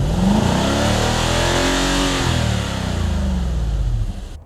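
A Nissan Patrol Warrior V8 with a side exhaust revs hard and close, a deep continuous engine roar that rises and holds, then eases slightly toward the end.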